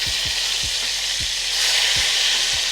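Beef short ribs searing in a hot skillet for short rib chili: a loud, steady, close sizzle that swells slightly toward the end, with a few soft low thumps underneath and no voices.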